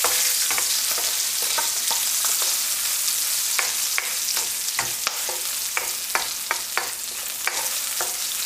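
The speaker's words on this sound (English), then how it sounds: "We just want to fry it until you'll start really smelling the spices." Chicken 65 frying in a pan with spices, ginger and curry leaves: a constant close sizzle broken by repeated sharp clicks and scrapes of stirring.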